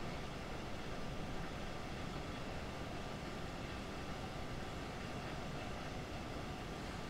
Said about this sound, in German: Mal weiter ausrollen lassen den Zug